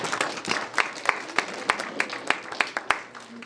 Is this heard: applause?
yes